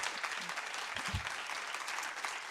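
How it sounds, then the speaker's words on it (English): A round of applause from an education conference audience, dense clapping from a crowd at a moderate, even level with a few faint low murmurs mixed in. "Can we have a big round of applause for Eva?"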